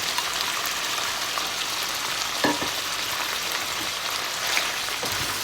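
Eggplant and minced meat stir-frying in a pan, a steady close crackling sizzle with a few scraping stir strokes of the spatula, and no talking.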